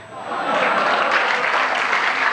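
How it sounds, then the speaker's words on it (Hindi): Audience applause after a poem at a Hindi comic poetry gathering, a dense, even burst of many hands clapping that swells quickly and holds steady, fairly loud. "कविता समाप्त हो गई, तालियां बजा दीजिए।"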